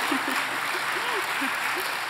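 Sustained applause from an audience at a church testimony gathering in Korea, dense and steady, with a voice speaking briefly over the clapping.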